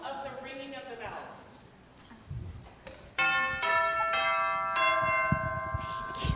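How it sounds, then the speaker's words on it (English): Bells ring out in a church in clear, sustained metallic tones, several strikes layering and overlapping, with a voice briefly heard near the start. "give us another example of the ringing of the bells."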